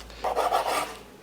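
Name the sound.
cutting cheese breadsticks fresh from the oven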